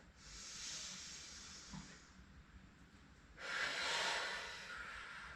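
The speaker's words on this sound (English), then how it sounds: "Deep belly breath." Slow, deep belly breathing during a bodyweight workout: a long airy inhale followed by a pause, then a stronger, hissing exhale, close to the microphone and alone.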